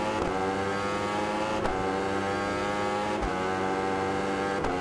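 Yamaha YZF-R1 sport bike engine in the RiMS Racing game, a loud continuous high-pitched wail with steady harmonics and a few brief dips at gear shifts, heard alone.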